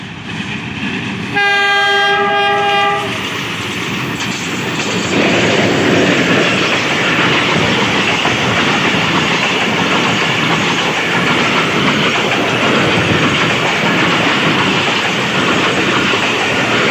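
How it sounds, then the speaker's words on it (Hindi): The Thal Express, hauled by an HBU 20 locomotive, pulls out of Sanawan station on the loop line. A loud multi-note horn blast opens, then a heavy continuous rumble of rolling wagons and wheels builds and carries on steadily throughout. "130 डाउन थाल एक्सप्रेस का सनावा स्टेशन की लूप लाइन से अब डिपार्चर हो रहा है"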